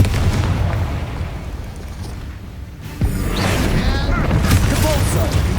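A Confringo fire spell explodes in Hogwarts Legacy, a sudden broadband burst about halfway through that rises out of a low, rumbling game backdrop and leaves a sustained, louder roar afterward.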